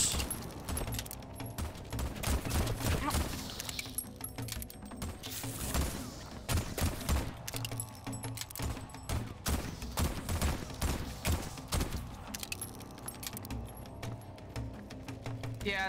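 Continuous gunfire in the Voidtrain video game rattles on without pause, rapid overlapping shots and clanking thuds forming a dense, loud barrage throughout, with a faint voice buried underneath.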